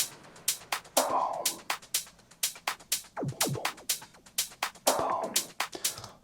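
A progressive house drum melody playing together with a full drum pattern: steady driving kicks and crisp hi-hats in a tight repeating groove, with descending pitched percussion and swelling textures layered on top, loud and close.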